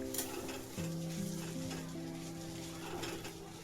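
Dried fish (sukat) cooks on low heat in a pan, giving a steady close sizzle with stirring scrapes and a faint low hum running beneath, no talk.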